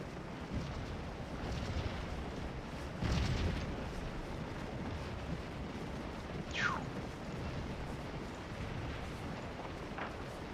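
Artillery shells burst in the Scourge of War battle game, one heavy boom rising over constant windy rumble around the third second, with faint whistling streaks after it.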